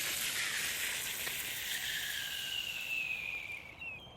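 Water at a rolling boil in a Ghillie storm kettle outdoors: a steady hissing, bubbling rush, close and moderately quiet, easing off slightly toward the end.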